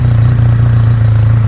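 A Patagonian Eagle 250 motorcycle engine runs loud and near with a constant deep droning hum and slight mechanical clatter, with no voices over it.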